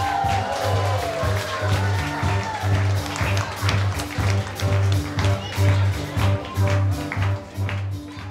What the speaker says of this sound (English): let's keep those applause going now, ladies and gentlemen